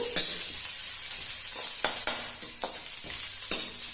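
Chopped cabbage frying in a pan for lemon coriander soup, a steady sizzle broken by a few sharp scraping stirs, close and fairly quiet with no talking.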